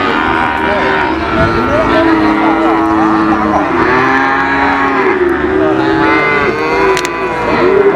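Several cattle, including Limousin and Simmental, moo repeatedly and loudly at a cattle market, long drawn-out lowing calls overlapping one another against a busy outdoor background.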